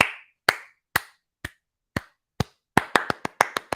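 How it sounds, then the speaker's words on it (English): Sharp, isolated hand claps ring out close and dry, six evenly spaced at first, then a quicker burst of about seven more near the end, with silence between each and no talking. "Hand clap."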